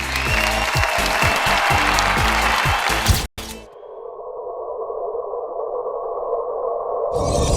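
Audience applause greets a former model and cookbook author as she walks onto a fashion show runway, a loud, dense burst of clapping with a musical tone that cuts off abruptly, leaving a low hum and then a fresh rush of noise.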